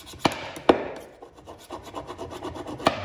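A scraper blade from a Travis scraper or spokeshave is rubbed hard back and forth on a sharpening surface, giving close rasping strokes with a couple of sharp knocks, with no talk.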